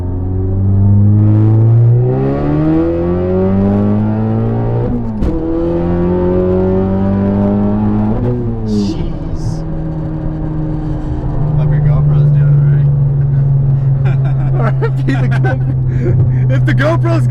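A Ford Focus RS fitted with a big turbo accelerates hard, its loud engine tone climbing steadily through several gears with brief dips at each shift, heard close up from inside the car.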